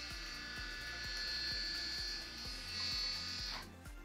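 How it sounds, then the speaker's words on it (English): A CK range electric valve actuator runs with a steady motorised whine and a regular low ticking pulse, then winds down near the end, with no talking. "it is always a good idea to run the actuator up and down a couple of times just to ensure it is operating as desired"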